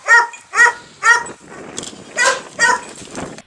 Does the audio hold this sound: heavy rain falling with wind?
no